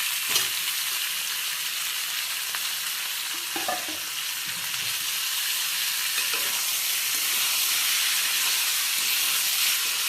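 Fried potatoes are stirred into sizzling chicken curry in a pan, producing a constant loud frying hiss with intermittent spoon-scraping strokes and light clatter, with no one speaking.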